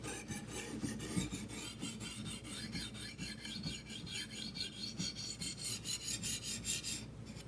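A knife is drawn across a coarse whetstone in quick, regular rasping strokes, close and fairly quiet, with a rhythmic scrape repeating throughout and no voices.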